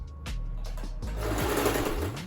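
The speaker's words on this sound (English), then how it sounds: "So I'm going to back stitch." A sewing machine back stitching fabric for a scrunchie, its motor whirring continuously at close range with short rising and falling speed changes, no talking.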